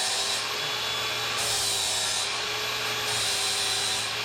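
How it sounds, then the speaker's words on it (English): Continuous high-pitched whine of a grinder grinding off a bad Lincoln MIG weld during a Bobcat T650 quick-attach hydraulic cylinder repair, steady and close with slight pitch shifts as the disc bears down, no talking. "I'm grinding off my bad weld so I can make another pass."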